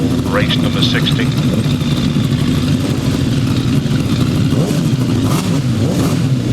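Grasstrack sidecar motorcycles, the big chairs, rev their engines at the start of a race heat, a loud, continuous mix of engine drone and rising revs under a commentator's steady talk.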